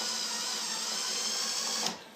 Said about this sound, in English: with the electric drill